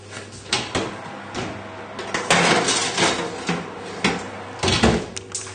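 Roast chicken with honey and lemon glaze going back into a home oven, a series of clanks and knocks from the tray and oven racks, then a door shutting, all close and fairly loud.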